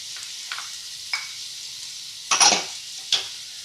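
Mushrooms, peppers, canned pepper and tomato sizzle in a frying pan for a steak pizzaiola, with a few scraping stirs and a louder burst of frying near the end, close and clear with no talking.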